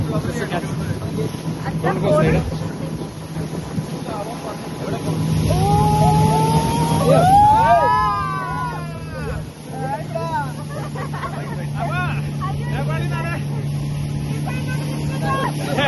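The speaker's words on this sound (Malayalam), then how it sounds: "അപ്പൊ ഇതാട്ടോ നമ്മളിപ്പോ സഞ്ചരിച്ചോണ്ടിരിക്കുന്ന ബോട്ട്" Steady motorboat engine drone on a river in Nepal runs throughout with wind and water noise, while someone talks over it for much of the ride.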